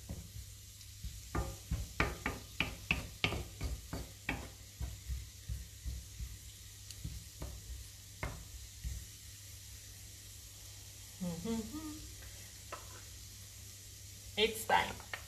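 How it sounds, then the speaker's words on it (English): Artichokes frying in a pan, soft sizzling with repeated sharp stirring clicks and scrapes, close and fairly quiet, with a person speaking briefly. "they are frying."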